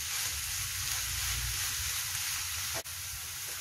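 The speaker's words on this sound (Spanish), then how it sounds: "que se fría perfectamente y suelte su grasita" Bacon fries in a pan with mushroom stems and walnuts, giving a steady, close, even sizzle with a soft crackle throughout and a brief scrape or stir near the end.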